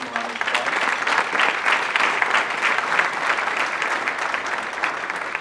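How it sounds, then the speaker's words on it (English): Banquet audience applauding law enforcement officers at a community dinner, a steady, dense clapping from a room full of people that holds an even level throughout without fading. "Please give them a round of applause."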